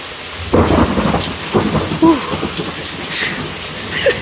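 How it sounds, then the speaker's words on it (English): A severe thunderstorm pounds Newark, Ohio, with steady heavy rain close by. Rolling booms and cracks of thunder rise over the rain again and again. "Severe thunderstorm warning, Newark, Ohio."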